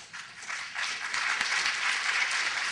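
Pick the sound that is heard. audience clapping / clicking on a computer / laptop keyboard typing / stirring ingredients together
audience clapping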